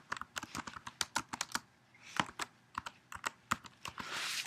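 Rapid bursts of clicky keystrokes on a computer keyboard, typed in uneven clusters with short pauses between, close and clear, with no voices.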